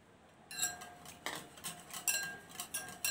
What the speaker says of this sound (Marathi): दह्याबरोबर तेलही व्यवस्थित फेटून घ्यायचं आहे चांगलं.